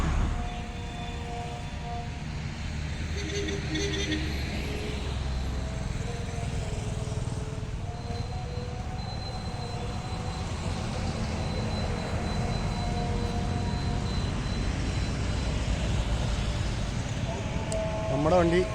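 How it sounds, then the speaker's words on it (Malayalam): A Maruti Gypsy 4x4 engine running steadily after a cold start, a broad low rumble holding at even loudness for the whole stretch, with people talking over it. "ഇതാണ് കേട്ടോ നമ്മുടെ സ്റ്റാർട്ട് ചെയ്യുന്ന വണ്ടി."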